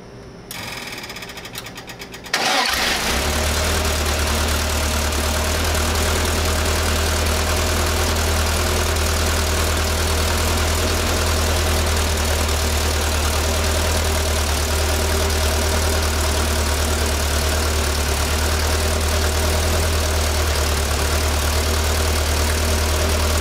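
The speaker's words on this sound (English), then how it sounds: "we're going to fire it up here and we're going to see where we're at" Air-cooled VW Type 1 engine with dual carburetors fires up after a brief crank and settles into a loud, steady idle that continues for about twenty seconds, close by.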